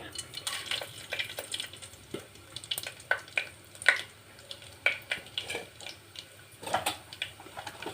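Whole spices — shahjeera, cinnamon, cloves and cardamom — fry in hot oil for veg dalcha bagara rice, giving a soft, steady sizzle broken by frequent light clicks and stirring taps, close and fairly quiet.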